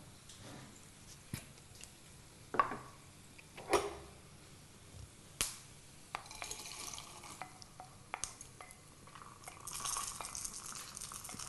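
Lightly fried mixture for ridge gourd pappu pulusu is spooned into a mixer jar, with quiet, sparse clinks, taps and scrapes of a spoon against the jar in an otherwise hushed kitchen.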